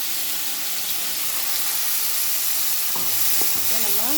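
Sundakkai (turkey berries) fry in a pan with a dense, steady sizzle and hiss while a spoon stirs them, and brief scraping clinks come through near the end.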